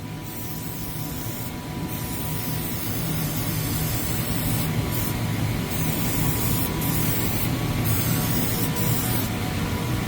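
Contact adhesive sprayed from a spray gun onto a white oak kitchen remodel panel, a steady close hissing spray that runs continuously for about ten seconds with a few slight shifts in tone.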